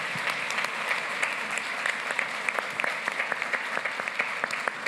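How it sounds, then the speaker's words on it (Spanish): Audience applause for a panel of speakers at a water treatment plant financing and operations event, steady dense clapping from a crowd filling the whole stretch with no talk over it. "un fuerte aplauso, por favor,"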